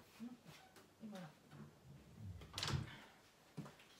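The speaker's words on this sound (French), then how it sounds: "Je vais juste refermer la porte." An indoor door is pushed shut with a single soft thud and latch click partway through, while someone talks quietly around it.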